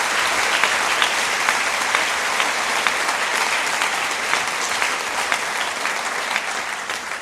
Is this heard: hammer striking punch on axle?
no